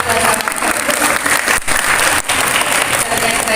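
Steady, dense applause from a seminar audience fills the whole stretch, loud and continuous with brief dips.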